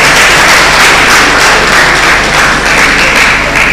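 A round of applause from the audience at an International Women's Day celebration, welcoming a professor; dense, steady clapping from many hands fills the room, loud and continuous throughout.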